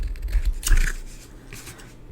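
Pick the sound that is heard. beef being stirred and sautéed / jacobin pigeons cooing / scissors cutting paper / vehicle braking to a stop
scissors cutting paper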